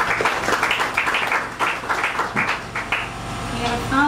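An audience claps for a panel speaker at a political event on women's parity, a scattered, steady applause with voices audible over it toward the end.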